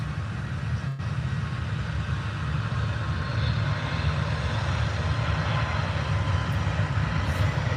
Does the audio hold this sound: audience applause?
no